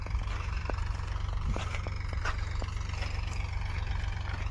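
Steady low engine drone from a small tractor during sowing in a farm field, idling evenly and fairly close throughout with faint clicks and knocks on top, no talk.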